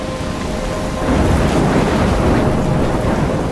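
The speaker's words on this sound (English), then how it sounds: "I'm trapped in a storm?" A thunderstorm in the video game Life is Strange roars with dense, steady rain and wind, and a deep rumble of thunder swells louder about a second in and holds, with no voices.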